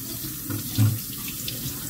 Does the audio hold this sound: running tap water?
yes